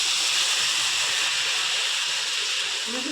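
Onion puree hitting hot oil in a pan for a paneer curry, a steady loud sizzling hiss with a slight fade near the end, no talk over it.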